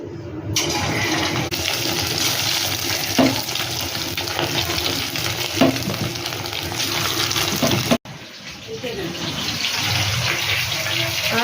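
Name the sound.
frying marinated chicken pieces in oil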